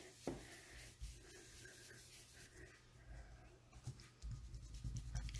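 Soft dry rubbing of a Granny Apple ink pad across the edges of card stock while making a springtime acetate box, a series of quiet scuffing strokes close up, with a few light taps and bumps.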